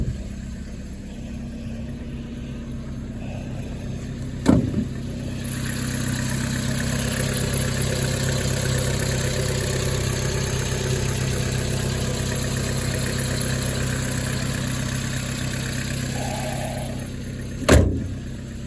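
A 2008 Vauxhall Astra engine idles steadily after a cold start on a very cold day, heard up close with a constant low drone and two sharp clunks.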